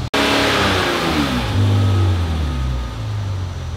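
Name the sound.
car engine revving during AC recharge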